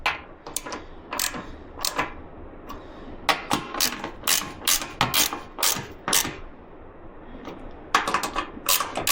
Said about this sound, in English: I'm not going to use the gun on installing these. I'm going to use the ratchet.